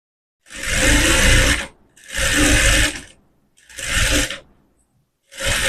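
A sewing machine stitching umbrella fabric runs in four loud, close bursts of about a second each, a rapid mechanical whir separated by brief silent gaps.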